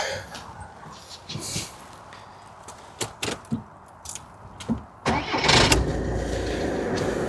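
A 2018 Volkswagen T6 van's diesel engine cranks and catches after a few short bursts, then settles into a low, steady idle nearby.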